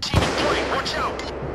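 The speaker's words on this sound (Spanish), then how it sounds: "Un disparo de francotirador." A single sharp sniper rifle shot in Payday 2, loud and close, followed by a brief echoing tail and a voice talking.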